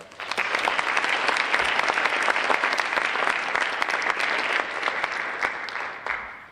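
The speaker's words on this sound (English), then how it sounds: "If you would please give a round of applause." A large audience claps steadily and loudly for several seconds at a National Honor Society induction ceremony, a dense continuous wash of applause that tapers slightly at the end.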